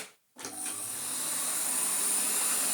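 A restored 1985 Electrolux Z327 Sup'Air vacuum cleaner starts up after a brief silence and runs steadily with a loud, airy roar and high whine through a pneumatic air-driven brush, close by.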